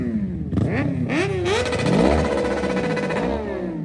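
A motorcycle engine at a car show revs hard and close, its pitch sweeping up and down in several throttle blips before settling into a sustained high roar.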